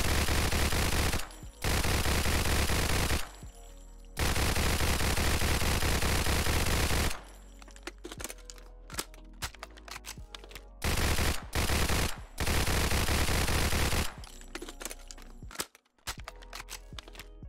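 A silenced .22 SMG in a Fallout 4 mod fires in several long automatic bursts separated by brief pauses, loud and steady, with clicks and handling noises in the gaps.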